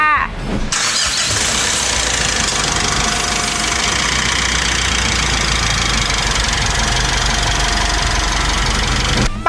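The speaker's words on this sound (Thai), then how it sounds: "เดี๋ยวตามไอ้ไปสตาร์ทรถกันก่อนเลยค่ะ" A 2020 Mitsubishi Triton GL pickup cranks briefly, then settles into a steady, loud diesel idle with a knocking rumble, heard close up with nothing masking it.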